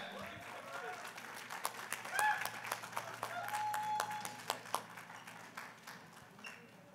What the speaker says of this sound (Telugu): ఒక్కసారి మనం అందరం గట్టి చప్పట్లతో ఆహ్వానిస్తాం